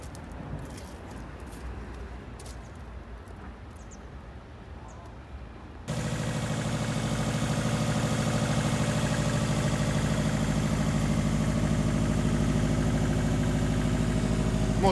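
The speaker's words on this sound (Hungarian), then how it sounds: "Motor hangja szép." A Subaru car's engine idles with a steady, even drone that starts abruptly partway through, loud and constant after a quieter stretch of faint outdoor background.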